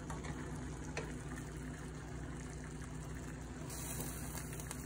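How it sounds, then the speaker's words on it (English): Pasta cooking water being scooped from a pot while making linguine with shrimp and feta, a steady close watery slosh and trickle running throughout with a brief splash near the end. "Grab some of that pasta water."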